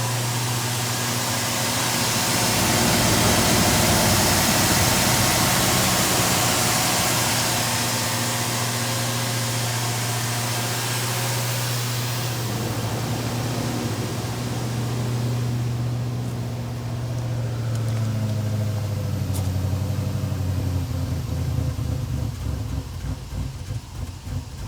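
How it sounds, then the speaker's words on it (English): An old Jeep engine idling high, a steady loud drone with a strong low hum and broadband mechanical roar that runs throughout and shifts slightly near the end. "So this thing was idling high"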